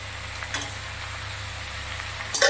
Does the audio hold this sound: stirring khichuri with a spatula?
yes